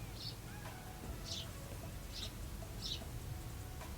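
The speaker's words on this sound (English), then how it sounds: "there's a bird outside my window" A small bird chirps outside a window, four short high chirps spaced about a second apart, faint and distant over a low steady room hum.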